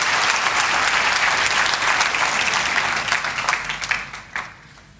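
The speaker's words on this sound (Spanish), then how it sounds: "Aplaudieron al Señor." A congregation at an evangelical service claps loudly and densely, then the applause breaks into scattered claps and fades out near the end.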